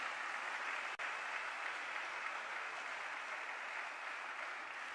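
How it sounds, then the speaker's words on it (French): Warm applause from the audience at a Kinshasa ceremony launching a national scholarship programme, a dense, steady wash of many hands clapping throughout, with one sharp dropout near the start. "Est-ce qu'elle peut s'avancer sous de chaleureux applaudissements"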